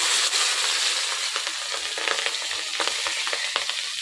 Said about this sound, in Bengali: বাপরে, লঙ্কা ফুটতেছে কত!